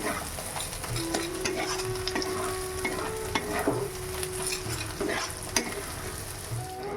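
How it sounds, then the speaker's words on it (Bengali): Chicken and potato pieces dry-fry in a pan with no water added, a soft continuous sizzle broken by a spatula's scrapes and clinks as the food is stirred, close and fairly quiet. "এখানে চিকেন আর আলুটা পুরো শুকনো শুকনো করেছি একদম জল দিইনি এটা একদম শুকনো করব"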